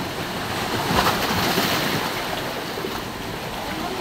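Strong ocean waves surge steadily against large rocks along a shore, a loud continuous roar of surf with wind noise buffeting the microphone throughout.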